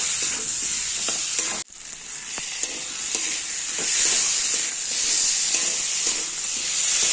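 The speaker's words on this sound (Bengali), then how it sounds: "সবজিগুলো কষানো হয়ে গেছে।" Vegetables sauté with spices and garam masala for a Bengali potato curry, giving a steady bright sizzle with scraping stirs and a brief sharp break as the pan is handled.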